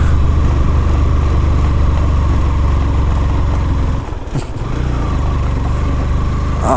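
On a hill road in Bandarban, a truck's engine drones loud and close with a steady low rumble. It dips briefly midway, then resumes its steady drone, with no talking.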